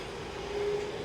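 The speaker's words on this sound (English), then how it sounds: "And there's the southbound for Skarpnäck, leaving the station." A southbound Stockholm metro train bound for Skarpnäck pulls out of Stora mossen station, a steady low rumble of rolling stock with a faint rising electric whine, close by and continuous with no talk.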